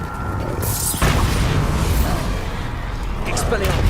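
A Bombarda explosion spell goes off in Hogwarts Legacy as a sudden boom about one second in, followed by a rumbling, crackling blast that carries on under a voice.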